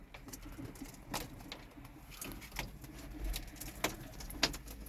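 Çorum tumbler pigeons, including Arab Çorum birds, coo softly amid a busy background of rustling and shuffling, with a few sharp clicks and taps scattered throughout.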